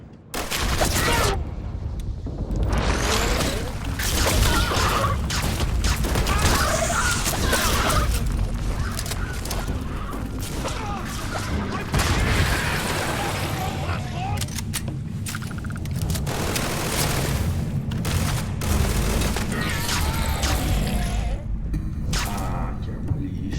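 Weapon gunfire in Starfield, with repeated loud bursts and single shots cracking through a busy, noisy game soundscape for over twenty seconds, along with impacts and a voice talking at times.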